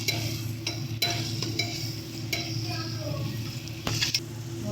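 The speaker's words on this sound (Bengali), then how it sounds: "সুন্দর করে দিয়ে এটাকে ভালো করে আমরা কষিয়ে নেব।" Mutton sizzles and is stirred in a pan with garlic, ginger and green chilli paste, a steady frying hiss broken by a few sharp scrapes and clinks.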